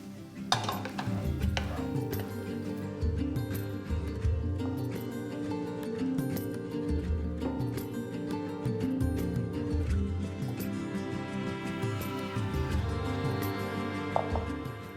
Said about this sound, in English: Add in the crumbled tofu and the freshly chopped green onions. Saute for 2 to 3 minutes.